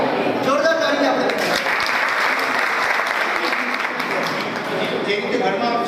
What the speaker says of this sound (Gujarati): બધા જોરદાર તાળી આપણે